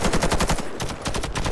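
Rapid automatic gunfire from the video game Warface, a dense, loud, steady stream of shots with a brief slackening midway before the fire picks up again, with no talking over it.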